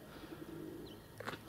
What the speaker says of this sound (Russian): У меня голуби тут не могут никак определиться.